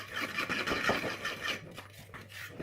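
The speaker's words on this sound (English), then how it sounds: "you stir that lot together, and I usually just use a fork to do that" Dry ingredients for a high-protein cake are stirred together in a bowl with a fork, producing close, continuous gritty scraping and rubbing in uneven strokes, with no talking.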